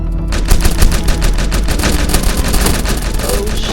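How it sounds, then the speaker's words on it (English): A fire-shooting trap in a video game blasts a dense, continuous roaring stream with rapid rattling pulses, loud and steady throughout. "Oh, that's a trap. It shoots fire."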